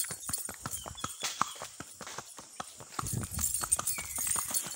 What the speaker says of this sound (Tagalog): Ito po ako, gahatid po ako ng kabayo